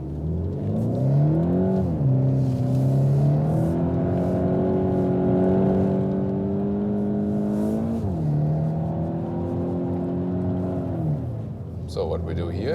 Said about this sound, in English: here I hold the steering quite steady, and again using the throttle,